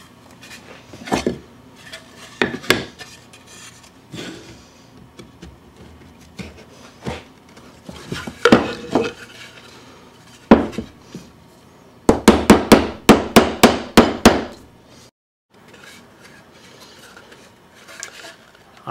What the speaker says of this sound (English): Now to chisel it out.